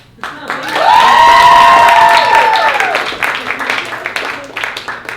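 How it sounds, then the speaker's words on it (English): A comedy club audience at a late-night stand-up showcase breaks into a loud round of applause with a rising whoop or cheer, swelling quickly and then tapering off under scattered clapping. "how about a huge round of applause as you would for a man?"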